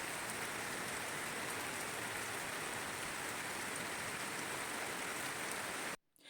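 Steady rain pours down on a Philippine farm where white broodcock gamefowl are kept, a dense continuous hiss of falling drops for about six seconds before cutting off abruptly.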